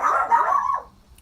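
Dogs barking indoors in a single drawn-out, loud burst that trails off into a short whine, close to the listener with no talk over it.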